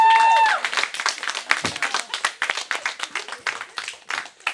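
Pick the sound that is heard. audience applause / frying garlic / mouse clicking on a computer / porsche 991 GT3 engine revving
audience applause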